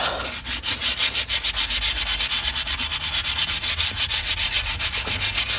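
Hand sanding a part of a 1999 Ford Econoline E250 cargo van with 220-grit sandpaper, fast steady back-and-forth rasping strokes, close and loud, with no talk.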